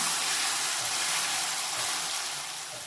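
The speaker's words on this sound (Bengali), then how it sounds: "আলুটা আমি ভেজে নেব যতক্ষণ না সিদ্ধ হয়" Potatoes seasoned with salt and turmeric fry in hot oil, giving a steady, close hiss of sizzling that stays even throughout and fades slightly toward the end.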